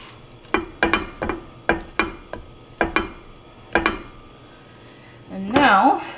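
Half a pound of ground beef is broken up in a pan with a utensil, giving a series of sharp knocks and scrapes in an irregular rhythm, close by, followed by a brief burst of talk.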